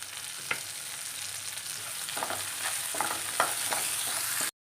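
Ginger, onion and curry leaves frying in hot oil for a prawn curry with vegetables: a steady, close sizzle broken by a few sharp utensil taps while stirring, with no talking, cutting off abruptly at the end.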